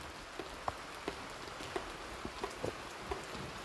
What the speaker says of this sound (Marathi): बाहेर बघू शकता पाऊस पाऊस पडतोय